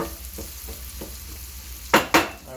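Red and green peppers, onions and garlic cooking in a pan, a soft steady sizzle with light stirring scrapes, then two sharp louder clatters near the end.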